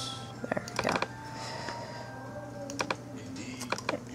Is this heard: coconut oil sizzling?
no